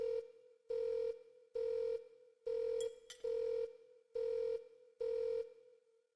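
A telephone rings in a regular pattern of seven evenly spaced electronic trills separated by short silences, clear and close.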